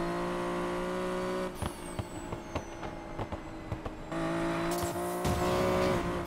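A racing car's engine roars steadily in Need for Speed Payback on PS5, loud and continuous, with brief gaps broken by sharp clicks and tire squeals before the engine drone returns.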